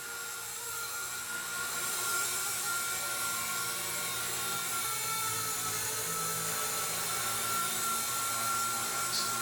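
A Blade mCP X radio-controlled helicopter flies nearby with a steady, high-pitched whining rotor and motor drone that holds loud and continuous throughout.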